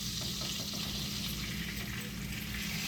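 A burger patty sizzling and frying on a hot surface as it is flipped, a dense continuous crackle with no talk.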